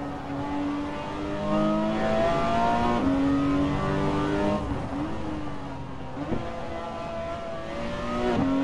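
A Porsche 911 GT in a racing game revs loudly and continuously on a track day run, engine pitch climbing and dropping through gear changes with no talk over it.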